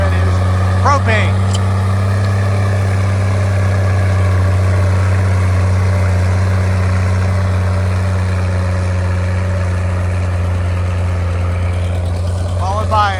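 Moline GB propane tractor engine running steadily at a tractor show, a loud, close, low idle drone that holds throughout, with voices talking over it.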